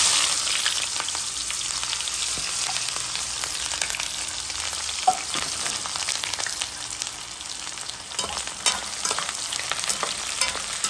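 Onion fries in hot oil in a pot, producing a loud, continuous crackling sizzle with occasional stirring scrapes, close up and steady throughout.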